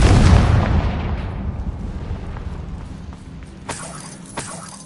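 A Confringo fire spell explodes in Hogwarts Legacy, a loud booming blast up front that rolls off into a fading rumble, followed by a couple of faint crackling pops.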